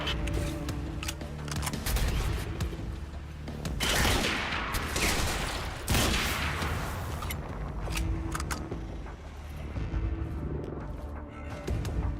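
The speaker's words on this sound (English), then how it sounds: "Who's shooting at me?" Gunfire aimed at the player in Quantum Break, a loud run of rapid shots and bursts in clustered volleys with sharp cracks, fading toward the end, with no talk over it.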